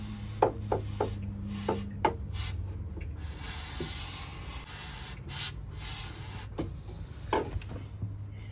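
Lubricant is sprayed onto the steering chain of a sailboat in a marina. Several short, close hissing bursts stand out over a steady background, with small rubbing and tapping noises between them.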